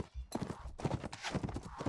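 Horse hooves gallop in a rapid, steady clip-clop rhythm during a Mount and Blade Warband battle, fairly close and loud, with busy game noise layered around the hoofbeats.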